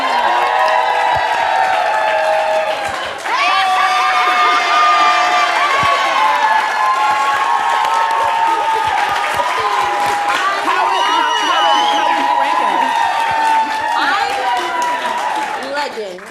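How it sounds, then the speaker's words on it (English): A small group cheers with excited shouts and whoops and some applause, voices loud and close, rising and falling in bursts for most of the stretch. "we need cheering"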